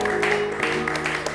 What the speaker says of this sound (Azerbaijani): Alqışlarla yola salaq.